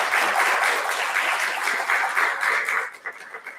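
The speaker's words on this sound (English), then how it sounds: "So let's give her a round of applause." An audience at a College of Liberal Arts and Communication awards ceremony claps in loud, dense, sustained applause that thins and tapers off near the end.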